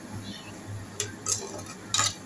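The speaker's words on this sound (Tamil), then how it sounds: "இந்த தக்காளி பிரிஞ்சு எண்ணெய் வர்ற அளவுக்கு ஓரளவுக்கு நல்லா வதக்கி விட்டுக்கோங்க" A spatula scrapes a pan as tomatoes are sautéed in oil for a peas and potato kurma, giving three brief, close scrapes and clinks over a faint low hum.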